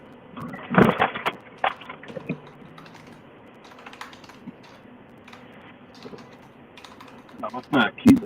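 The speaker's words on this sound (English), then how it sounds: "you're going to town on that keyboard. Yeah, hear that? Clickety clack." Bursts of keyboard clicking come in quick clusters near the start and end, with sparse taps and light background noise between them.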